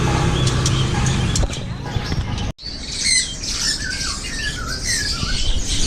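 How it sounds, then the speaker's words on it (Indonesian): Sun conure parrots squawk in repeated sharp bursts at a busy bird market kiosk, nearby and loud, mixed with other birds and crowd noise, with a brief dropout midway. "Ini ada burung Sun Conur."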